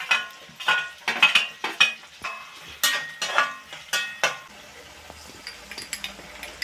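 Capsicum and garlic stir-fried in a pan for chilli chicken: a series of sharp scraping and clinking spatula strokes in an irregular rhythm, close and fairly loud over a faint sizzle.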